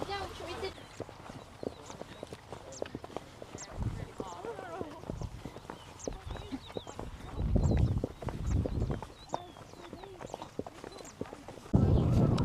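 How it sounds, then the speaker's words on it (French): Horse hooves clip-clop at a walking pace during a horseback ride, a light, steady series of near hoof strikes while a rider talks over them and heavier rustling bursts come and go. "C'est la première fois que je suis à cheval."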